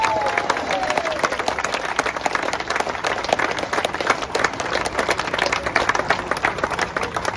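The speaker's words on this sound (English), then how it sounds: "Big round of applause for the smallest cog." Audience applause at the Hagerty Festival of the Unexceptional 2022 car awards ceremony, a dense, continuous clapping crowd with sharp individual claps standing out, lasting several seconds.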